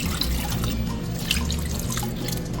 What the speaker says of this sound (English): I'm gonna start pouring the lemon juice in there.